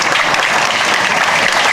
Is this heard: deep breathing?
no